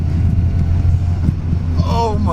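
An old MGB GT driving on a twisty road, its low engine drone steady and close throughout with wind and road noise, and a brief higher tone near the end.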